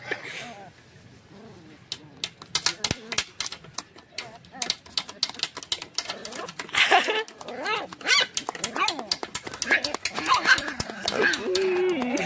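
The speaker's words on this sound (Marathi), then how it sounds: "ते कुत्री आले" Small puppies whimper and yelp in short, scattered bursts at close range, mixed with children's voices and other background noise.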